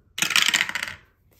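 Dice tossed onto a surface during a cash-stuffing savings challenge, a quick burst of rattling clatter lasting under a second and then fading out, with no talk.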